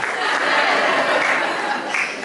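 An audience at a paediatric society conference in Ghana applauds the participants, a dense, steady wash of clapping from many hands that holds loud throughout with faint chatter mixed in.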